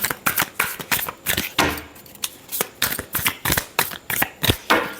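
A tarot deck shuffled by hand, with repeated sharp papery riffles in quick regular bursts, up close and unaccompanied by speech.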